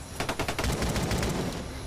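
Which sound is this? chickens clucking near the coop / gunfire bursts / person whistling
gunfire bursts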